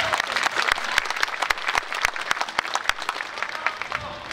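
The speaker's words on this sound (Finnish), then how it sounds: "Pienet aplodit" An audience at a big band concert claps steadily and fairly softly in a sustained round of applause with no break.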